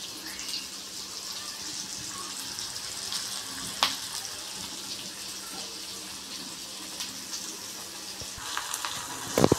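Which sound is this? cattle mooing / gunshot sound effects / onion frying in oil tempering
onion frying in oil tempering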